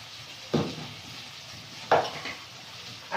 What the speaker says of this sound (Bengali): দিয়ে মশলাটা কষিয়ে নেবো ভালো করে